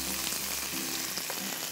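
Onions sizzle and fry steadily in a small amount of oil for an egg noodle soup, a close continuous crackling hiss with no voices.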